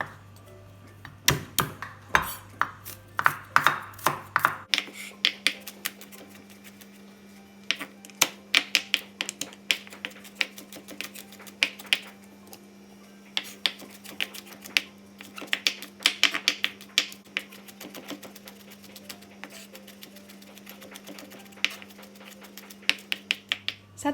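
A sharp knife crushes and then minces ingredients on a cutting board, sharp rapid chopping taps in uneven bursts, close and crisp, over a steady low electrical hum.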